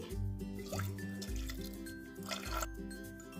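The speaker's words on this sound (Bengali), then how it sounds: "সেই কাপেরই তিন কাপ পরিমাণ জল দিয়ে দিচ্ছি" Water pours into a pressure cooker holding lentils, giving a continuous close gurgling and splashing stream with a changing hollow tone as the vessel fills.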